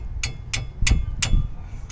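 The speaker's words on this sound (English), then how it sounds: "just going to give that a little tap around with the hammer" Four sharp metallic taps spaced evenly, about one every third of a second, from a hammer striking the front brake parts of a Fiat 500 nearby.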